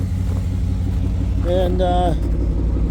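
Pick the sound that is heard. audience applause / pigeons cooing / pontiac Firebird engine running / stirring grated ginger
pontiac Firebird engine running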